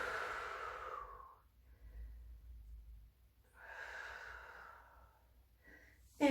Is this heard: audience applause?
no